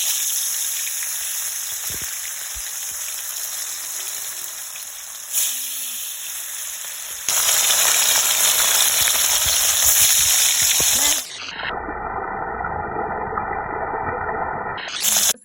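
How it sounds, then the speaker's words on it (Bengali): Loud, continuous sizzling of sea patol fish frying in hot oil, a dense crackling hiss that shifts in intensity partway through, close up, no voices. "আমার তেল গরম হয়ে গেছে, এবার আমি মাছটা ছেড়ে দিচ্ছি"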